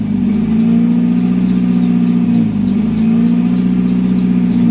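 A Nissan Grand Livina engine runs close up during a tune-up, a loud, steady idle hum with slight rhythmic wavering and no voices.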